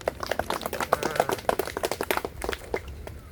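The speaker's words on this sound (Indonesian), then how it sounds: "coba sekarang kita tepuk tangan dulu bersama" A group of children clapping hands together in a classroom, a quick uneven burst of claps at moderate distance with faint voices behind.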